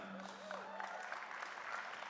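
Audience applause at a school awards ceremony, a steady wash of clapping across the whole stretch with a brief voice tone near the start, moderately distant and fairly quiet.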